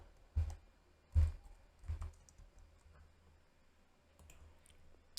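A computer keyboard is tapped close by, typing a prompt: three distinct keystroke clusters come in the first two seconds, then a few faint taps after a quiet pause.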